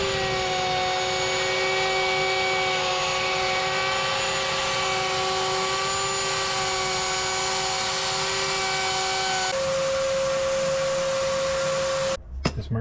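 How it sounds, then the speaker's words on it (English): A router fitted with a 3/4 inch bit runs steadily for about twelve seconds, a loud sustained whine with strong steady tones that shifts pitch slightly near the end before stopping abruptly, while cutting wood for a table saw crosscut sled. "For this job, I used a 3/4 inch router bit"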